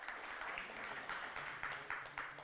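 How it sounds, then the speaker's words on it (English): Conference audience applauds after a minister's address, a steady wash of many hands clapping at moderate, slightly distant level with faint pulses, no voices standing out. "Applause, applause, applause, applause, applause."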